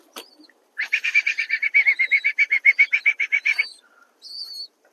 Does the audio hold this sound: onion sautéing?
no